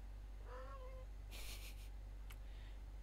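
A pet cat lets out a short, rising meow, then a second quieter cry a moment later, both fairly faint against a low steady hum and a brief rustling noise indoors.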